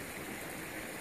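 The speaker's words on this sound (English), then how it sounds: "There's a river." Steady broadband rush of a river flowing through the Hoh Rain Forest, a continuous close wash of water with no pauses or voices over the brief moment.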